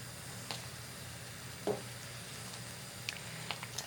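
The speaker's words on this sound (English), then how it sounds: "It's going to boil over if you don't turn it down." A pot of pasta water boils on a stove while clam linguine is cooked, giving a faint, steady bubbling hiss with a few soft ticks and pops.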